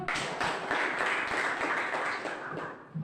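A classroom group claps briefly after a student's presentation, a dense burst of many hands at close range that holds steady for a few seconds before trailing off.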